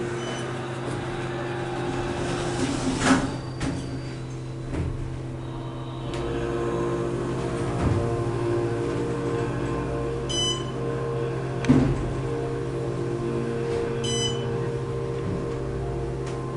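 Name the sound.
Otis hydraulic elevator going up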